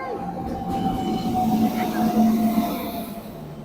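A passenger train bound for Surendranagar passes near a village: a continuous rumbling roll with a sustained tonal whine riding on top, fairly loud and steady throughout, with no clear speech.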